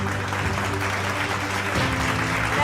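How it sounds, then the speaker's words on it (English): Audience at an evening arts awards ceremony applauding Dr. Shashi Tharoor, a steady dense wash of clapping with a low hum underneath. "Can we have a round of applause for Dr. Tharoor"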